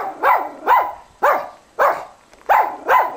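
A loud dog behind a tall green solid fence in a Hungarian village barks repeatedly, six sharp evenly spaced barks close by with no talking.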